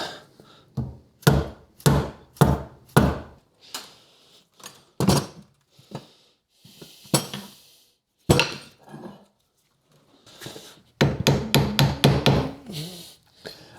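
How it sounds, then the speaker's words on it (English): Sharp metallic hammer blows strike a trailer wheel hub in quick bursts, a few single taps then a rapid run of hits near the end, close and loud with short pauses between. "I've always just tapped these in with a hammer and then hit them off a bit"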